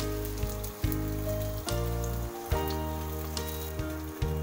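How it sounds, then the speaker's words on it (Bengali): Pieces of paneer frying in hot ghee in a kadai produce a quiet, crackling sizzle broken by occasional soft knocks and bumps. "তাহলে আমরা পনিরগুলো এবারে ঘিয়ের মধ্যে ভেজে একে একে তুলে রাখছি"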